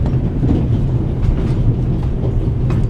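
A train in the video game The Raven Remastered rattles along with a loud, steady rumble and rhythmic clickety-clack of wheels on rails, heard close up without voices.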